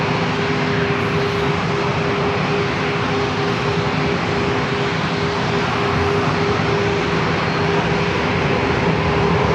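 A JetBlue Airbus A321 airliner arriving from Boston at San Diego airport, a continuous broad engine rumble with a steady tonal hum, held at an even level throughout with no voices.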